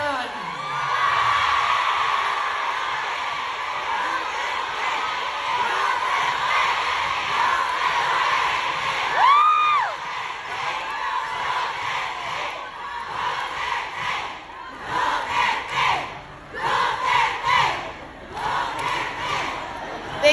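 A large crowd at a political rally for the Dutertes in the Philippines shouts and cheers loudly and continuously, with swelling roars, whoops and a brief rising whistle-like cry amid the din.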